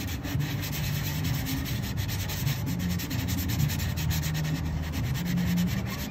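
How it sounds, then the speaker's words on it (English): A fiberglass surfboard being hand sanded before a patch repair, giving a steady close-up abrasive rubbing that is continuous and even, with no voices. "We start off with a little sand just to make sure"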